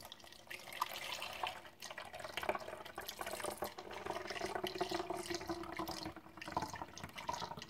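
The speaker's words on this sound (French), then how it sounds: "On va le mettre dans le flacon à pompe." Homemade liquid hand soap, cooled after making, pours into a pump bottle with a steady watery trickle and faint drips, continuous and fairly quiet, with no talking.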